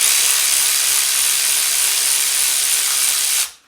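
A pneumatic impact gun runs in one continuous, loud, hissing burst to loosen a stripped bolt on a steel oil pan of a K20 engine. It cuts off abruptly after a few seconds.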